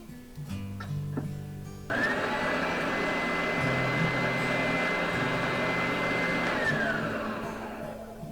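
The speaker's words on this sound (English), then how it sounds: "Give that a quick test run." An oscillating edge belt and spindle sander switches on and runs steadily on a test run, with a loud continuous motor whine and belt rush that holds for several seconds before starting to wind down.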